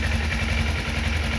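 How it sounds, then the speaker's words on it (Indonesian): A 2012 Kawasaki Ninja 250 with an original carburetor idles close by, a steady loud engine drone with a fast, even pulsing throb and no voices. "langsung kita dengerin suara mesinnya"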